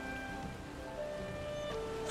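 Steady rain falls in the video game Valheim, a soft continuous hiss at night with faint tonal game sounds layered over it and no speech.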